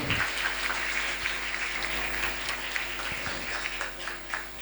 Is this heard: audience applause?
yes